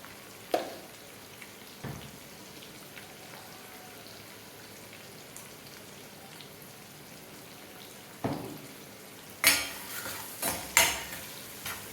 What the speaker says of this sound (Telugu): ఇదంతా మంచిగా ఫ్రై చేసుకోవాలి.